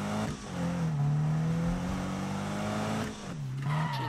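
A car engine in the Need for Speed 2015 video game revs up and settles in a loud, continuous drone, its pitch rising and dipping twice over a few seconds.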